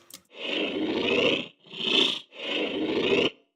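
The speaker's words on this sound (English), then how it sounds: "It sounds a bit like some sort of cyborg alien creature." A processed, growling cyborg alien creature voice made with the Serum synthesizer, with a metallic, robotic edge, heard as three gravelly bursts separated by short pauses.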